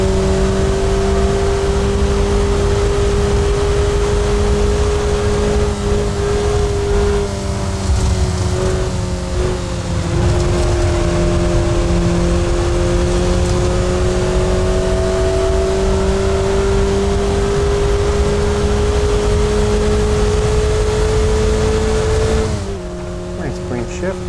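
A race car engine drones loudly and continuously around a VR racing game circuit at Bridgehampton, its pitch dipping and rising through a gear shift before dropping away at the end, with a voice talking over it.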